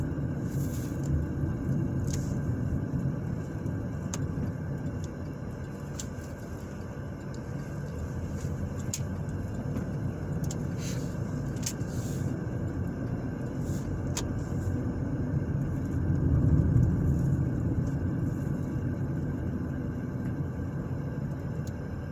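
A car drives through the streets of Terre Haute, Indiana's south side near South 15th, with a steady, continuous rumble of engine and road noise heard from inside and no talking.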